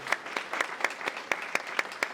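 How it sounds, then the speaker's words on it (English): Applause from an audience of business owners at a women-in-business awards event, a small crowd whose distinct claps come in a steady, fairly sparse rhythm over about two seconds. "let's give yourselves a round of applause"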